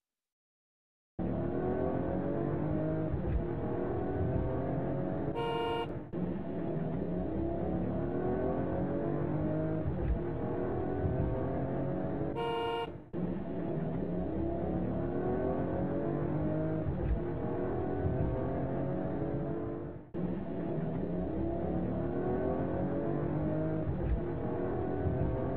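A turquoise race car engine revs continuously and loudly in the foreground, its pitch sweeping up and down, broken by two short gear-shift gaps and one brief drop.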